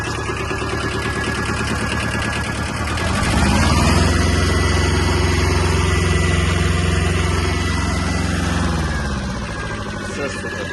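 A Japanese Kubota B-10 mini tractor engine runs in second gear, its steady diesel throb rising in pitch and loudness as the throttle is opened, holding a stronger roar before easing slightly at the end.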